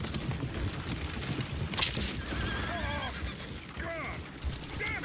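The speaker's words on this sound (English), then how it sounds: "Oh, shit, the horses!" Horses in the Red Dead Redemption 2 video game whinny several times in quick succession over a busy background of hoof clatter and muffled bangs, the neighs rising and falling at moderate volume.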